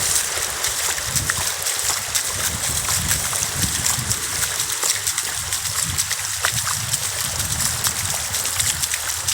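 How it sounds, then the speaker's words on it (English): Water flows and splashes at a waterside spot in Holland, with a continuous close burble and trickle plus scattered splashes, steady throughout with little else heard. "Yeah, nice sound of water."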